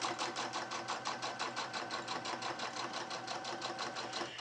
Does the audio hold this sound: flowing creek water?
no